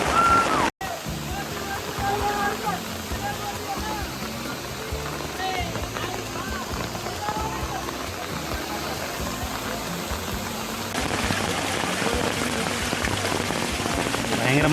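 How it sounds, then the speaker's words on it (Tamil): Heavy monsoon rain in Coorg pours down steadily and loudly, a dense continuous hiss of drops close by with running water beneath, briefly cut near the start, then swelling slightly louder toward the end. "நல்லா மழை, சூப்பராகல."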